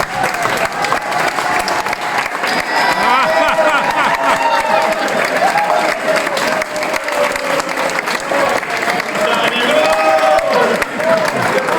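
Wedding guests applauding the newlyweds at the reception, dense sustained clapping from a crowd with some cheering and voices mixed in, loud and continuous throughout.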